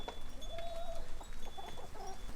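Hens cluck softly in short, scattered calls on a farm, faint and fairly close over a low background hum, with no talk.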